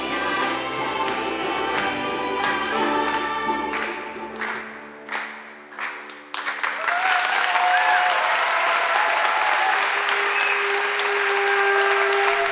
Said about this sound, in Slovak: Na záver všetkých potešil nadšený potlesk.